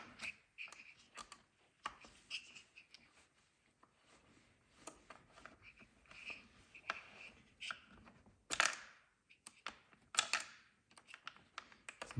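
An Allen key loosens screws on a CoreChair with small, irregular clicks, ticks and metallic taps close by, quiet overall, with a couple of sharper scrapes later on.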